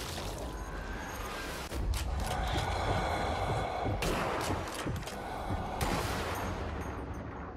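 Gunfire in the video game Zombie Army Trilogy: dense, continuous rattling volleys and blasts that fill the whole stretch at a steady loud level.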